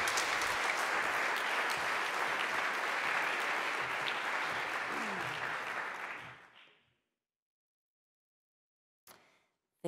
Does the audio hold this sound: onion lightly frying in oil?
no